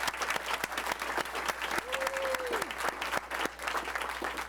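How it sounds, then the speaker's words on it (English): A room at a Torrance Unified school board meeting breaks into sustained applause, many hands clapping densely and evenly for several seconds, with a voice briefly rising over the clapping. "Let's all give them a big last round of applause."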